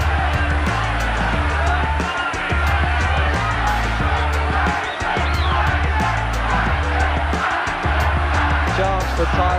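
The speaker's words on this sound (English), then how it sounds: "And there's jeering coming in the last round." A boxing arena crowd in the last round of Mike Tyson versus James Smith keeps up a dense, loud roar of jeering and shouting, with a commentator talking over it.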